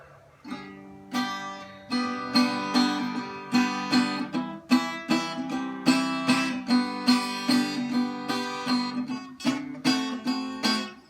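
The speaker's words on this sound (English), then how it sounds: "So this is a parlor-sized guitar." A small parlor-sized tenor guitar strummed and picked in a steady rhythm, bright ringing chords repeating alone with no voices.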